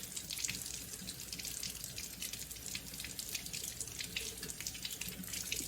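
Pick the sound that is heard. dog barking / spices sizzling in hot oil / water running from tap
water running from tap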